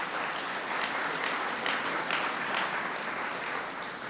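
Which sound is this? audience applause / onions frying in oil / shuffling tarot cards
audience applause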